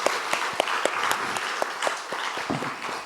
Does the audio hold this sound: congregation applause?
yes